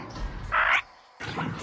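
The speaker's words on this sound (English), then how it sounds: "It's not like no damn raptor. It's a parrot." A parrot gives a single harsh, loud squawk, close and alone, followed by a short rougher call after a brief pause.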